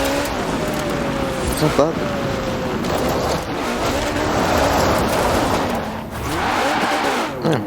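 Ferrari 575M Maranello engine in the Forza Horizon 4 video game, a steady sustained drone with rising and falling revs and gear-change sweeps, running continuously under a voice talking.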